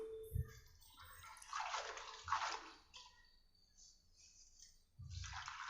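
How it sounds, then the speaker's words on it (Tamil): Ponnangani spinach greens swished and rinsed by hand in a vessel of water, with intermittent sloshing and trickling splashes in a quiet kitchen, including a louder swirl near the end. "அதனால் நம்ம தண்ணியில் போட்டு நல்லா அலசி எடுத்து வச்சுக்கலாம்."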